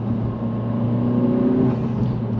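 Engine of a 2025 Honda Civic Si rev-matching on a downshift, a steady close droning hum from inside the car that swells slightly as the revs rise, with no talk.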